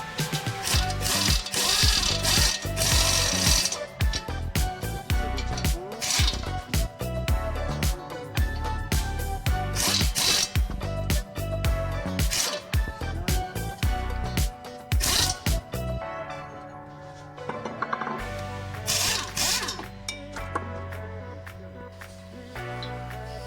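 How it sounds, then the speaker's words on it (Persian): Metal ratcheting and clicking come from a wrench working a Renault Sandero brake caliper bolt while the brake disc is turned, in dense repeated bursts. The noise drops to sparser, quieter knocks near the end. "چند بار پیچ را سفت و شل می کنیم و دیسک را می چرخانیم"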